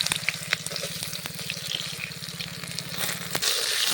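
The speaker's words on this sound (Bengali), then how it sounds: "এই সময় বেগুনগুলো যে ভেজে রেখেছিলাম, বেগুন ভাজাগুলো দিয়ে দিচ্ছি।" Fried eggplant slices go into a pan of hot oil with cumin, giving a steady close sizzle and bubbling with scattered clicks and scrapes, then a brief louder hiss near the end.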